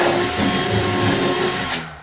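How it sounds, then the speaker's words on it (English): A power drill whines steadily as it bores through a wooden kitchen cabinet, then winds down abruptly near the end. "I drill these from the back of the cabinet"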